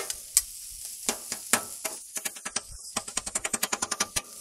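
Rapid, crisp scraping and clacking of a spatula against a hot griddle as chicken fried rice crisps, quickening into a steady rhythm over a faint sizzle, close up.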